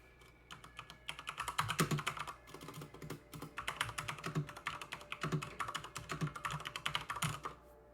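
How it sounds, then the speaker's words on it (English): Rapid clicking keystrokes on a new computer keyboard, typed in quick uneven bursts with short pauses, close and fairly quiet, with no talking. "it makes like the most stereotypical keyboard sounds, and it's so fun"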